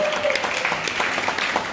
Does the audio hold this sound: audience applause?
yes